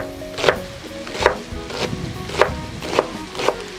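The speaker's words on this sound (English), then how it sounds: "We're gonna get that chopped up and get in there" Vegetables for pancit being chopped on a board, six sharp knife strikes spaced roughly half a second apart, close and distinct, with no talk.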